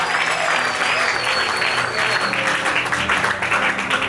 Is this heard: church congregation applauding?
yes